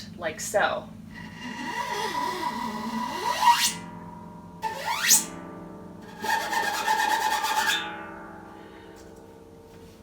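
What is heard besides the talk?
metal object scraped vertically along harp strings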